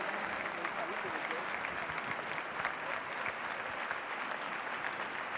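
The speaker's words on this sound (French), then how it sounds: "continuer vos applaudissements maintenant en cadence à l'occasion du tour d'honneur" A crowd in the stands at a show jumping event at the Grand Palais in Paris claps, with dense, even applause that sounds somewhat distant and continues throughout.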